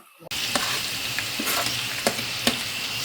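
Garlic, ginger and curry leaves sizzling steadily in hot oil in a pan, with occasional light stirring clicks over the continuous frying hiss.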